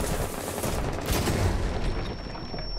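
A breaching charge fires in the video game Rainbow Six Siege, a single loud, harsh blast that rolls into a noisy rumble and fades over a few seconds.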